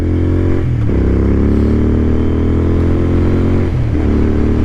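A cruiser motorcycle fitted with a wide rear tire rides along, its engine droning loud and close with a constant rumble and a couple of brief dips in pitch, like gear shifts.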